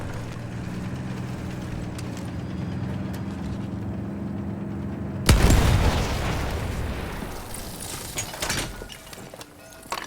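A field gun fires in Battlefield 1, a single loud boom halfway through that cuts across a steady low engine-like drone, followed by a rumbling, crackling decay.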